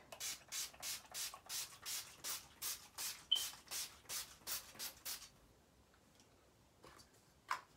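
A makeup setting spray bottle gives about fourteen quick, evenly spaced hissing bursts up close, then stops, leaving near silence with a couple of faint sounds.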